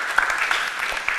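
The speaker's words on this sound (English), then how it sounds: "You can give him a round of applause." At a religious gathering, a brief burst of audience applause fills the room with dense clapping and a few sharper claps standing out.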